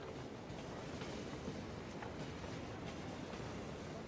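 A tram pulls into a stop in the city-building game Cities: Skylines, giving a steady, close rumble of rolling wheels and rail noise that holds at an even level throughout, with no voices.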